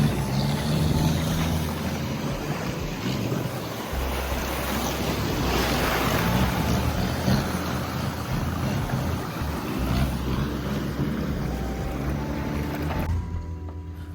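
Sea water surges and waves break around someone wading to Ao Nang Beach in Krabi during stormy weather, a loud continuous roar of surf mixed with gusting wind on the microphone.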